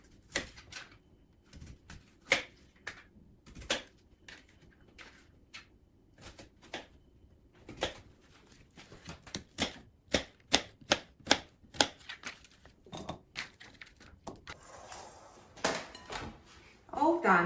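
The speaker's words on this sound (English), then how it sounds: "I'm going to dice them in small cubes." A knife chops peeled potatoes into small cubes on a cutting board, giving sharp, irregular taps that quicken into a dense run of close, crisp knocks, with a little kitchen clatter near the end.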